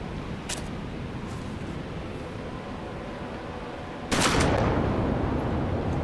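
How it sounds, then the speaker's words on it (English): Shotgun blast from the Western tactics video game Hard West: a sharp, loud burst that jumps up and rings out over steady game ambience, with a fainter crack heard earlier. "Actually, I get a better percentage with the shotgun."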